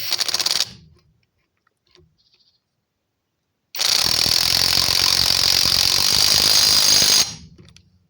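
REVOLT TW 20/350 cordless impact wrench with a half-inch square drive, fired in two bursts: a short rattling hammer burst, a pause, then a longer loud continuous impacting run that cuts off abruptly, close up with no talk.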